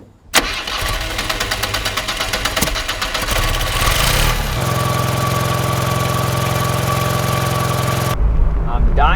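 Subaru Sambar kei truck engine starting and then idling, loud and close, with a steady mechanical running drone and a faint tonal whine that cuts off sharply at the end.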